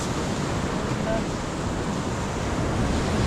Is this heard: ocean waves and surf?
yes